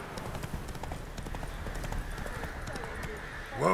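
Hooves of the horse Roach galloping in The Witcher 3, a quick continuous clip-clop beneath game ambience, with a voice speaking at the end.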